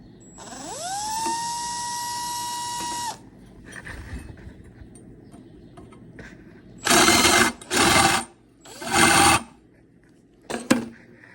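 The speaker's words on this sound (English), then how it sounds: "But what always works is a big drill bit." A drill with a big bit whines at steady speed for a few seconds, then several short bursts of grinding as the bit scrapes metal deburring a drilled hole, with quiet pauses between.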